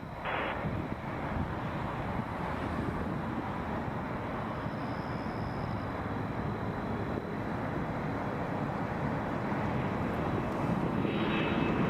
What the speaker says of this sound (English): Jazz 544 to LaGuardia, Embraer 175.